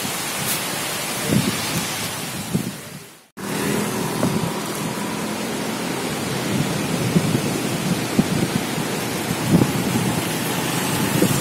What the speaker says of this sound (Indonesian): saat ini terjadi hujan, sementara badai bertiup dari laut ya